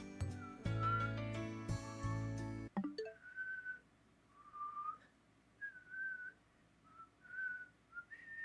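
Someone whistles the Pokémon surf theme tune in short, clear melodic phrases at a moderate distance, following a louder stretch of game music that stops abruptly.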